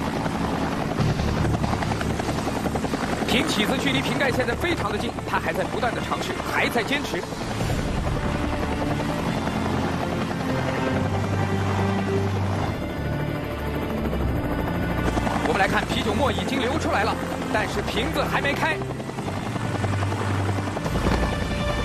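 A helicopter hovers at extremely low altitude for a precision beer-bottle-opening stunt on a challenge show, its loud continuous rotor drone filling the scene beneath excited commentary.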